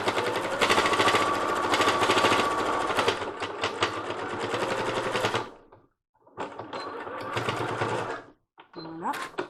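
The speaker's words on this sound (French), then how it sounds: "Et on va simplement piquer à ras." A sewing machine stitches close to the edge of a washable, reusable fabric face mask, running in fast rattling bursts that stop and start, with brief pauses and a voice speaking over parts of it.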